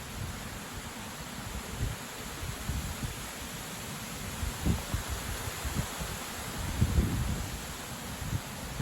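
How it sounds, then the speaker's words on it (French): Strong wind thrashes through a large poplar tree, a steady roaring rush of leaves with deep buffeting gusts that swell and fade, continuous and with no voices. "le vent est assez soutenu quand même"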